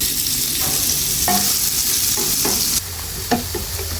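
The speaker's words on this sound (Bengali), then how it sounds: "ওই তেলের মধ্যে দিয়ে দিব কয়েকটা শুকনো মরিচ এবং কেটে রাখা পেঁয়াজ এগুলো আমরা ভালোভাবে মোচমোচা করে ভেজে নেব" Dried chilies and chopped onions fry in hot oil for an eggplant fry topping, giving a loud, steady sizzle with a few sharp stirring clinks and scrapes near the pan.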